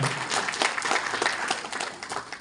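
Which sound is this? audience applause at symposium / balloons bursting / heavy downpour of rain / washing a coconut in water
audience applause at symposium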